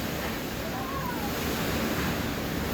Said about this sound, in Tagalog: Alam mo, nagpapakilabot sa akin yung tunog ng hangin.